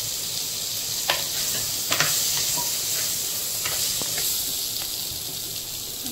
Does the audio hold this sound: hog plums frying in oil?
yes